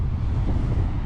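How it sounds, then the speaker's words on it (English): Strong wind buffets the microphone on a black sand beach at Piha, New Zealand, with a steady low roar and the wash of big surf mixed in, loud and continuous throughout. "Windy."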